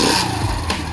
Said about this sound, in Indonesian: jadi ini adalah motor gas-gas 110 cc